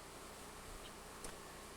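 Honey bees flying around a beehive in a suburban neighborhood make a faint, steady buzzing hum at close range, with no voices.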